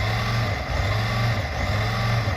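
A custom 1/18 G.I. Joe RC jeep with a brushed motor drives at speed, giving a loud, steady motor whine and rumble with slight surges and no voices.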